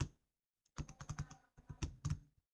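Keystrokes on a computer keyboard come in two quick bursts of close, distinct clicks separated by a short pause, with no talking.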